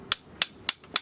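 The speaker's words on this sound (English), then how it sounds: "a good hammer. Craftsman makes a really good hammer." A Craftsman hammer strikes four times in an even, quick rhythm, each blow a sharp, loud, close metallic crack with nothing else heard between hits.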